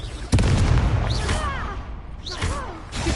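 Confringo explosion spell cast during a duel in a Hogwarts video game: a sharp blast followed by rumbling, crackling debris, then a second whooshing burst, loud and close, with voices over it.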